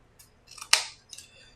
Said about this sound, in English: I'm just going to cut this right here.